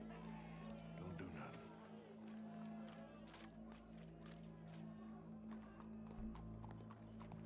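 Clip-clop of horse hooves in the video game Red Dead Redemption 2 over a steady low hum, with brief voices and crowd noise in the background.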